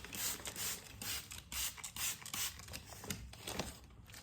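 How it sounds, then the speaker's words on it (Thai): A spray bottle mists water over edible bird's nests while they are prepared for packing. It gives a quick run of soft, hissing squirts in a steady rhythm, faint and close. "จริงๆรังนกก็คือพยายามฉีดให้มันทั่วถึงนะคะ"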